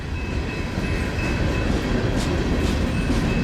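Freight train of coal cars rolling past in Montour, Iowa, a continuous rumbling and clatter of wheels on rail, close and steady throughout with no talk.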